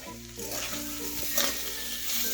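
Potatoes and drumstick leaves fry in a pan for a chorchori as they are stirred, a steady soft sizzle with occasional scraping and shuffling of the spoon, fairly quiet and with no voices.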